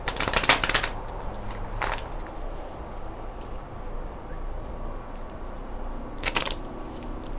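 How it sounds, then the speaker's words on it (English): A tarot deck is shuffled in close bursts, with a quick riffling flutter at the start, another brief one near two seconds and a final burst near the end, separated by quiet room tone. "Let's pull Tesra's Tarot and see what Tesra's Tarot got to say"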